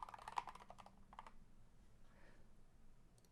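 Computer keyboard typing in a quiet room: a quick burst of soft key clicks at the start, then sparse taps fading into near silence, close and faint.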